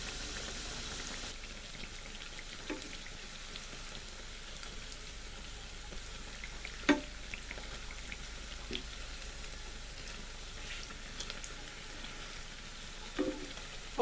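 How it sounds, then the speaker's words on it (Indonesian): A crispy Indonesian omelette made with egg fries in oil over medium heat, a quiet, steady sizzle and bubbling with a few faint clicks and taps of a utensil. "Kita bisa goreng dengan api sedang saja agar telur dadarnya ini"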